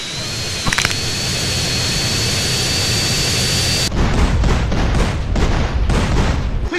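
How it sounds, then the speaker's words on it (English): A jet in the video game GTA San Andreas gives a steady, loud turbine roar with a high whine, then a heavier, gustier rumble of thrust with intermittent bursts. "I got a jet."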